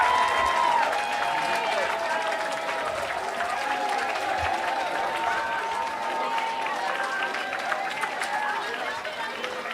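Sustained applause and crowd cheering from a large audience at a motivational talk event, steady and dense throughout with a loud voice or music carrying over the top.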